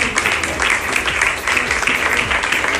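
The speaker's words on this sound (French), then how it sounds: "je mérite que vous applaudissez vous-même. Très fort." Steady, dense applause from an audience at a talk marking International Menstrual Hygiene Day, loud and continuous throughout with no voices over it.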